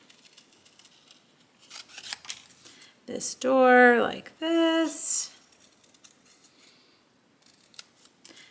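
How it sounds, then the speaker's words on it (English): Paper snips cut around a cardstock door for a stamped house project, giving a few close, crisp bursts of snipping in two main runs, with soft talking before and after. "Now I'm going to just take my paper snips and just very carefully cut around"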